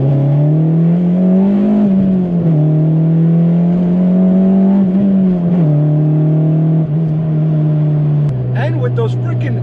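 An Acura RSX Type-S engine revs loudly from inside the car, its pitch climbing and settling in repeated steady pulls, with a few clicks near the end.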